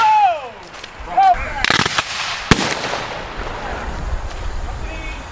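Civil War reenactment infantry company firing a musket volley at a Civil War weekend at The Grange in Seville, New York: shouted commands first, then several sharp, loud outdoor cracks in quick succession echoing into crowd noise.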